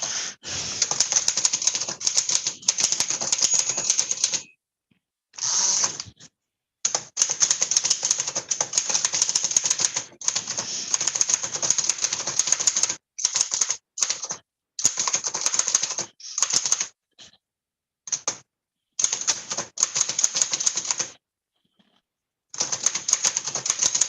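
Typing on an Oliver 9 typewriter, a steady run of loud, close keystrokes in fast bursts broken by short pauses, with no talking.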